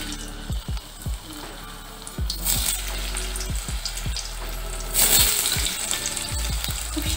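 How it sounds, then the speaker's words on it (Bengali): Potatoes frying in mustard oil for a banana-flower and prawn dish, a steady sizzle broken by repeated low thuds and clatter from stirring, with louder bursts of hiss partway through. "আলুটা ভেজে নেব।"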